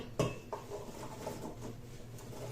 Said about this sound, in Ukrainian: Висипаю в каструлю.